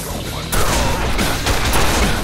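A floor of explosives detonated by a switch in a Quake 2 mod for Quake 4, heard as a loud rolling series of blasts and booms one after another, with no talking.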